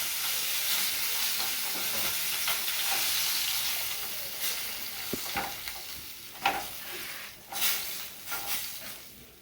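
Tilapia fish frying crisp in hot oil, a steady close sizzle with bursts of spitting and crackle that grow sparser and more uneven toward the end, with no voices.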